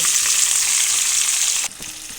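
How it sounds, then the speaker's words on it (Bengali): Drumstick pieces fry in hot oil with cumin and bay leaf tempering, a loud, close, hissing sizzle that drops suddenly near the end into a softer crackle, no voices. "ডাঁটাটা অল্প করে ভেজে নেব"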